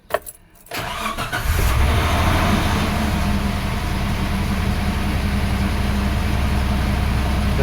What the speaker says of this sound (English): this car has a misfire